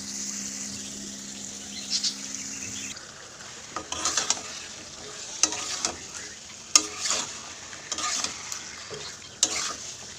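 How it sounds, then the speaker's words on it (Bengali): Curry sizzles quietly in a pan while being sautéed, with a soft frying hiss broken by intermittent scrapes and clinks of a spatula stirring against the pan, fairly close and without talk. "কষানো হচ্ছে রান্না শেষ করলাম"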